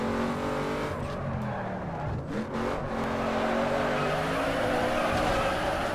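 A car in the racing game Need for Speed Underground 2 roars steadily as its tires squeal and skid through a spin, loud and continuous engine noise throughout.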